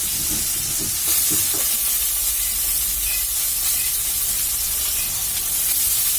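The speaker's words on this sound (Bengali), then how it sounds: "কপিটা আমি লাল লাল করে ভাজি করে নিই" Cauliflower frying in hot oil gives a steady, loud, broadband sizzling hiss that runs unbroken throughout, with a few faint low clinks early on.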